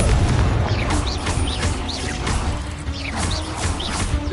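A Confringo blasting spell exploding in Hogwarts Legacy, heard as a dense continuous rumble of booms and crashes with swooping magical whooshes layered over it throughout.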